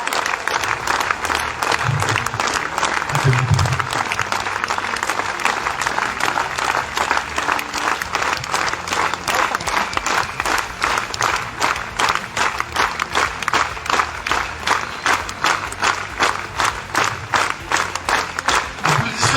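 A festival crowd at a château applauds in rapid, sustained rhythmic clapping that carries on steadily for the whole stretch, with brief voices near the start under the dense clapping.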